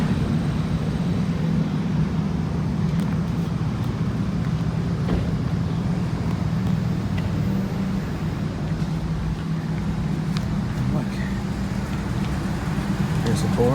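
A big semi truck rolls past on the road in Atlanta, a steady low rumble of heavy traffic filling the scene under continuous talk.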